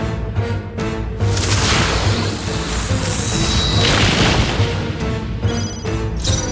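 A Raging Fire spell from Metaphor: ReFantazio erupts in a loud roaring blast with a sweeping whoosh, a sustained crashing burst over game music lasting a few seconds.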